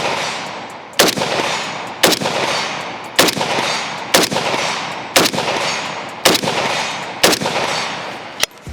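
An AK-style pistol with a muzzle brake fires 7.62x39 at steel targets outdoors, eight sharp, concussive shots spaced about a second apart in a slow, steady rhythm, each loud blast followed by a brief ring.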